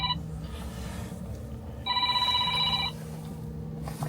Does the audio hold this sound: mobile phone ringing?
yes